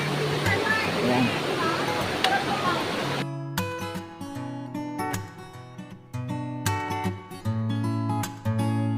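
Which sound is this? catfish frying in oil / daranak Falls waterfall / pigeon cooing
daranak Falls waterfall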